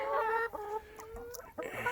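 Australorp hens cluck nearby in a garden, a run of short, close, fairly loud clucks and throaty calls with brief pauses between them, no talking.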